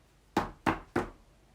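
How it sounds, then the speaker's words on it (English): Three sharp knocks on a castle door, evenly spaced about a third of a second apart, close and fairly loud with nothing else around them. "Jim ran to the castle and knocked on the door."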